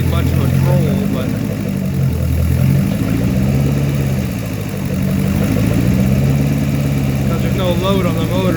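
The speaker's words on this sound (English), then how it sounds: "She's real stable on the idle here." A Gen 6 MerCruiser boat engine idles with no load, a loud, steady low rumble with a slightly uneven throb that holds close throughout, while someone talks over it.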